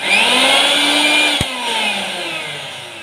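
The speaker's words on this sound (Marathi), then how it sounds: "हा तुमचा मिक्सर रेडी झालेला आहे." A repaired household mixer grinder runs close up with a loud, high-pitched motor whine. It holds steady, gives a brief click midway, then winds down slightly in pitch.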